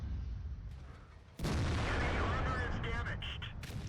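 An enemy tank cannon firing in World of Tanks, a sudden loud boom midway that cuts into engine rumble, followed by ringing debris and metallic clatter.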